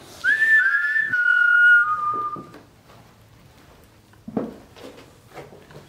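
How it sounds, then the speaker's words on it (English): A single whistle tone rises and wavers over about two seconds, then slides downward and stops, followed by a few faint knocks and rustles in a quiet room of an abandoned 1777 monastery in Belgium at night. "Maybe you should try the whistle."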